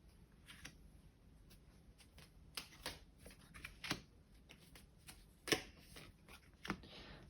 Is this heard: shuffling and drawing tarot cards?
yes